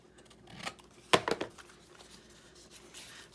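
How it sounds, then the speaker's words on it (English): Scissors cut paper for a junk journal in a quiet room, one short burst of crisp snips clustered in the middle after a faint earlier rustle, close and alone. "I think I might cut a little bit of this top off."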